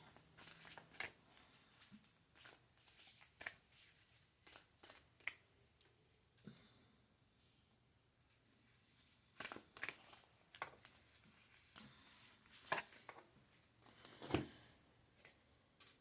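Oracle cards being shuffled by hand, soft papery riffles and flutters in scattered bursts with quiet pauses between them, close and faint in a calm room.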